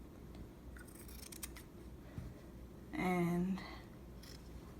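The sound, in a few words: scissors cutting denim jacket fabric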